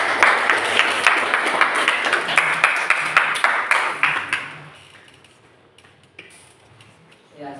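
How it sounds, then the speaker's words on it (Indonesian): A classroom of students claps for two student groups that have just presented, a dense patter of hand claps that runs for about four seconds and then fades into quiet room sound. "Saya beri tepuk tangan media dulu kepada dua kelompok yang kalian sudah tampil tadi."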